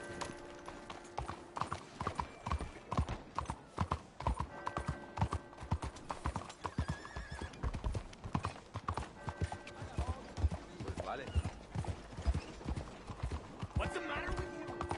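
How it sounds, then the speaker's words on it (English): Horse hooves clip-clop steadily and close by in Red Dead Redemption 2, set against game ambience, while someone talks over the steps now and then. "A horse waiting on me here."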